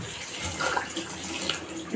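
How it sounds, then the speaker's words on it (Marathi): Boiled water is poured into a pot, a steady close splashing gurgle lasting a couple of seconds with slight surges in the flow. "3 मिनिटाचं ह्याच्यात पाणी टाकून घेऊया."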